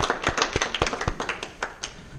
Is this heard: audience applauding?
yes